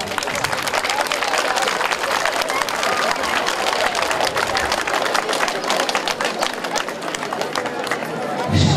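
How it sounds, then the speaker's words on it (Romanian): A crowd applauds at an outdoor Heroes' Day wreath-laying ceremony at a war memorial, a dense continuous wash of clapping that holds steady for several seconds at moderate distance. "Vă rog să-i aplaudați pe colegii voștri."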